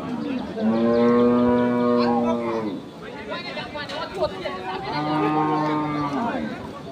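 Cattle low loudly and nearby at a busy cattle market, two long drawn-out moos separated by a short pause, with people chattering in the background.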